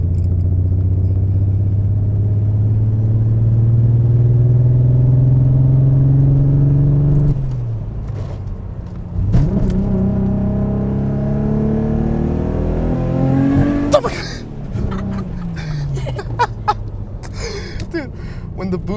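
A Nissan GTR accelerates hard from first gear, its engine climbing in pitch through a long pull, then dropping at a shift before revving up again, loud and close, with faint voices near the end.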